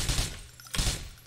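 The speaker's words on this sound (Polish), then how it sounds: "Jeden strzał w głowę." Gunfire in the video game Grand Theft Auto IV, two short bursts of sharp rapid shots separated by a brief gap.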